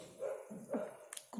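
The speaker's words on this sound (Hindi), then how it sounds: "कुत्ते भौंक रहे हैं" Dogs barking nearby in short, scattered yips and barks, a few bursts spread across a brief moment with some background noise, and no talking.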